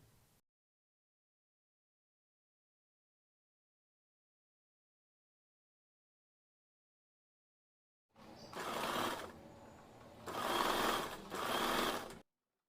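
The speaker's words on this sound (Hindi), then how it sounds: "उसके बाद में मशीन पे सिलाई चला दूँगी, पक्की सिलाई" A sewing machine runs stitching on a blouse in two or three loud bursts separated by short pauses, the motor whirring steadily and close, after a long stretch of near silence.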